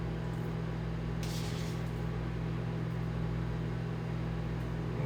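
A microwave oven runs with a steady, low electrical hum that stays constant throughout, with no talking.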